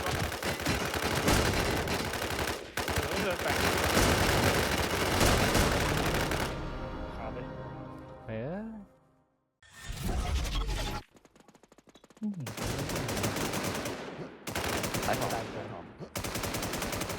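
Rapid bursts of automatic gunfire from the Warz Infestation video game, loud and dense, broken by a short silence with a few lone shots and a brief voice before heavy firing resumes.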